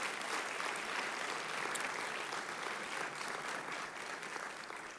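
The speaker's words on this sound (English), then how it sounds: "If you could give them a round of applause" An audience at a school awards ceremony applauds for board members, sustained clapping from many hands that stays even and fairly distant for several seconds before slightly fading.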